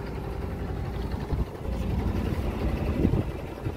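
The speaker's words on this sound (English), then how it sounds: "We're just idling right now with the engine" A sailboat's inboard engine idles in neutral on the St. Lawrence Seaway, a steady low rumble with water wash, continuous and fairly close throughout.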